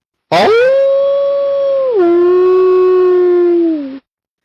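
A single long, loud howl that rises, holds steady, then drops in pitch and trails off, rich with overtones, heard alone.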